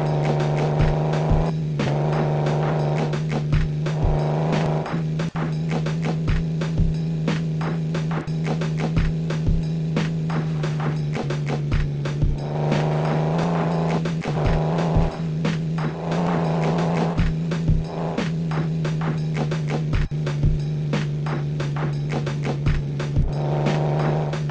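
Off-road quad bike engine droning steadily while driving, a loud continuous motor hum with repeated sharp knocks and bumps over rough ground.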